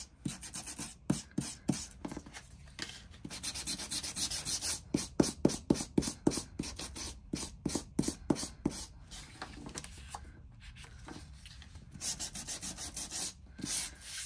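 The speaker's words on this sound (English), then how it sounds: "just a little bit of a sand down, because sanding it does burnish it to the paper" Sandpaper rubbing on paper in quick back-and-forth strokes, a dry scratchy rasp repeating in bursts with short pauses, close and fairly quiet.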